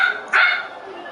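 A dachshund barks in short bursts while a younger dog joins in play, one sharp loud bark standing out at close range.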